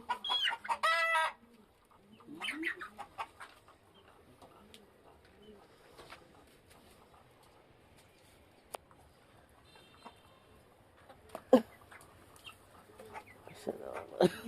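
Farm chickens cluck and squawk in short bursts, loud at the start and scattered later amid quieter handling noises, with people talking intermittently.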